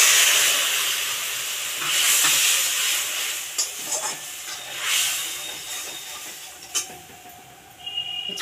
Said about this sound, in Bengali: নারকেলের দুধটা আমি দিয়ে দিলাম।